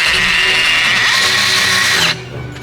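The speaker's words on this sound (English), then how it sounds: "So the drill bit started coloring because of how hot it got." Power drill grinding steadily into metal on a sportbike, a loud continuous high-pitched whine that cuts off abruptly after about two seconds, leaving a quieter background hum.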